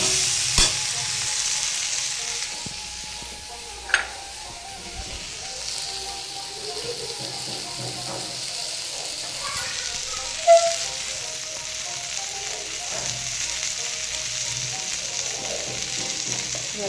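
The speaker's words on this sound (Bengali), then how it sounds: "এভাবে আরেকটু সময় ধরে ভেজে নেব" Steady sizzling of green beans and potatoes frying in a pan, a continuous crackle with a couple of sharp clinks of a utensil against the pan.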